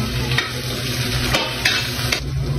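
Garlic sautés in oil in a pan, a steady close sizzle broken by a few sharp scraping stirs from a utensil.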